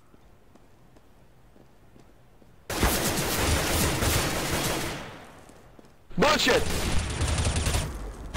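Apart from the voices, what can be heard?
gunfire in the video game CS:GO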